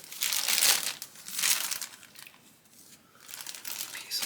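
Plastic packaging crinkles and rustles in repeated bursts as it is pulled from a Hot Toys Endgame Thanos box. The sound is close and swells and fades over a few seconds, with no talking.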